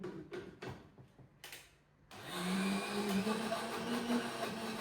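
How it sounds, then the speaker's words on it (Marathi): A kitchen mixer grinder whirs up to speed and runs steadily, grinding ginger into a moong dal batter, loud and continuous after a few light clicks and knocks at the start. "मस्त आता बारीक करून घेऊ."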